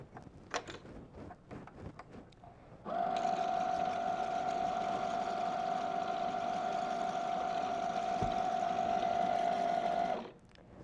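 A sewing machine runs steadily while winding thread onto a bobbin, giving a continuous mechanical whir with a steady tone. It holds for about seven seconds and then stops, after some brief clicks and handling sounds at the start.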